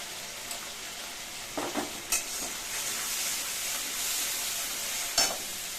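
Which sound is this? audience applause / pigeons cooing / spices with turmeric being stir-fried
spices with turmeric being stir-fried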